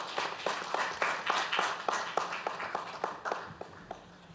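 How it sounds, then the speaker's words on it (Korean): Audience at a Korean legislative policy forum claps in a fairly regular rhythm, faint and distant, fading out after about four seconds. "큰 박수로 모시겠습니다"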